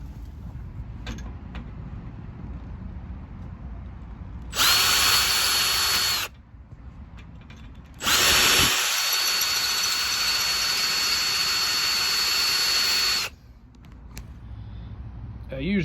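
A power drill drives bolts on the radiator of a 2002 Dodge Durango, whirring in two loud, close bursts, a short one and then a longer steady run, with quieter work sounds around them.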